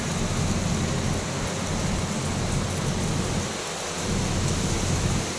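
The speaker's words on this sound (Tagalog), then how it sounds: "napakalakas po ng bagyo na ito" Typhoon rain pours down in a dense, unbroken roar, with strong wind and deep rumbling underneath; no voices, just the storm throughout.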